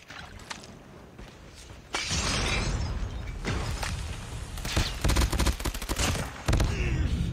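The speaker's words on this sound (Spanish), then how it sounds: "estoy queriendo matar a un tío con 5 ametralladoras" Sustained automatic gunfire from a Call of Duty: Mobile match, with dense rapid bursts of shots running loud and continuous through most of the stretch, broken by a brief quieter lull near the start.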